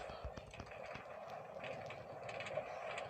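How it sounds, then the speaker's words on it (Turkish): A train accelerating rumbles and clatters steadily with rhythmic rail clicks, a continuous mechanical roar filling the background. "Evet tren hızlanmaya başladı arkadaşlar."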